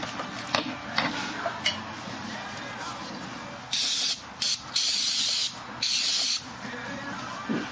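Short bursts of spray rinse metal filings out of a spark plug hole during spark plug sleeving. The hissing comes close and loud in four or five separate blasts over soft background ticking.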